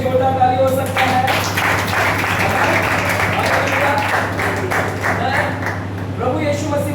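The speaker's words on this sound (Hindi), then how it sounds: "एक परमेश्वर के लिए छोटा ताली हो सकता है।" A church congregation claps during a night prayer service, with sustained, fairly loud applause lasting several seconds and a low steady hum and some voices running under it.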